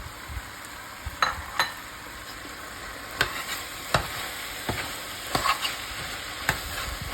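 Shrimp and soaked mushrooms frying in a wok for taro puff dumpling filling, a low background sizzle punctuated by irregular sharp clicks and scrapes of a utensil stirring, no talking.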